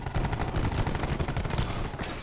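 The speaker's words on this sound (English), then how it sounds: "There's just a bunch of gunfire going by me." Rapid gunfire in Call of Duty Black Ops 4 during a control league match: loud, dense bursts of shots crackle continuously throughout, with no talking.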